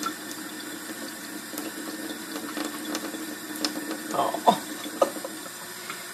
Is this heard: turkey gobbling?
no